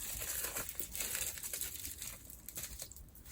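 Crinkling and rustling of bubble wrap as small pins are unwrapped, close and fairly quiet, with irregular bursts of crackle and crumpling over a few seconds.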